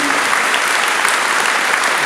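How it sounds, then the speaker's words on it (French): Dense, steady applause from a large audience at a charity event in Algrange fills the whole moment, loud and continuous with no voices standing out. "vous pouvez tous vous applaudir pour ça"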